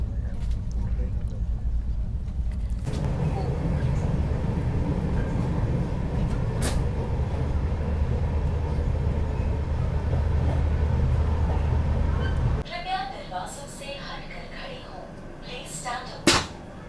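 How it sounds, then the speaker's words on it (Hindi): The Shatabdi Express pulls into Chandigarh railway station with a steady loud rail rumble that cuts off abruptly, followed by quieter interior ambience with a sharp clatter near the end. "सो भाई चंडीगढ़ रेलवे स्टेशन पर अपनी ट्रेन पहुंच"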